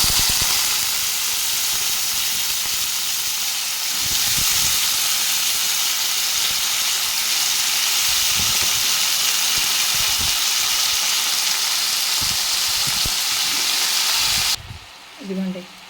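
Potato pieces and curry leaves fry in a hot tempering, giving a loud, steady sizzle and hiss that runs unbroken until it cuts off near the end. A brief faint sound follows.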